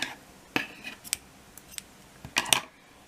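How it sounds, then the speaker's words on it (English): Scissors snip through purple yarn while crocheting a wavy square, giving several short, crisp metallic cuts spread over about three seconds, with a close double snip near the end; no talking. "you can cut the yarn, the purple one, you don't need it anymore"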